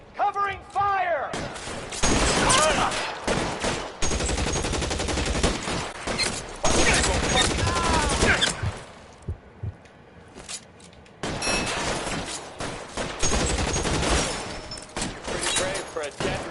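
Gunfire in the video game L.A. Noire Remastered, bursts of loud rapid shots and metallic clangs in a close shootout, with voices shouting between the volleys and a short lull midway.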